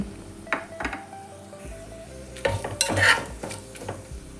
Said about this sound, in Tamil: இப்போ நம்ம பிரியாணி இலை பட்டை லவங்கம் ஏலக்காய் கிராம்பு எல்லாம் போட்டுக்கலாம்